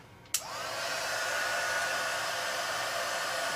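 A heat gun blows steadily on a 2-inch length of 1/2-inch heat shrink tubing, switching on with a sharp click and then holding a constant, fairly loud whooshing hiss of hot air with no talking.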